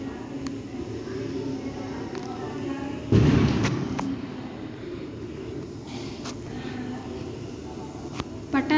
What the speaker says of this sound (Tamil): பட்டாசு அடிக்கிறாங்கன்னா அதான் சவுண்டு, தப்பாக நினச்சிக்காதீங்க.